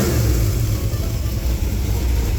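A 355 small-block Chevy V8 in a Firebird runs at a lumpy idle, its deep loping exhaust pulsing steadily and loudly up close with no voices.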